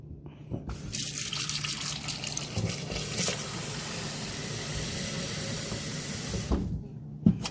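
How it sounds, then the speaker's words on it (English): Water streams steadily and loudly into a KitchenAid K150 blender jar for several seconds, a rushing, hissing flow that stops abruptly near the end. "Add some water."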